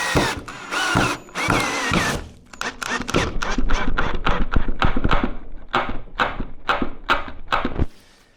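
A Ryobi power drill drives a screw into wood in short bursts, then gives a rapid series of sharp clicking ratchet pulses, close and loud, with no talk.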